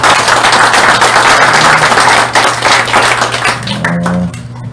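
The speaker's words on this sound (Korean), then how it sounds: "여러분 감사하다는 박수 한번 해주시기 바랍니다" A crowd claps loudly at a political party education event, sustained applause filling the room before fading toward the end.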